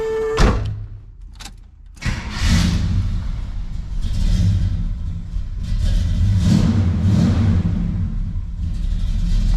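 A Pontiac Lemans with a freshly rebuilt transmission cranks with short clicks, then its engine catches and settles into a loud, steady rumbling idle with slight surges, heard up close.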